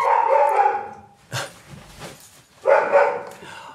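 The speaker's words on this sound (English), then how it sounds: "my dogs are barking their head off" Several dogs, German shepherds, bark in two loud, rough bursts at a delivery arrival indoors, with a short sharper yelp between them and no one speaking.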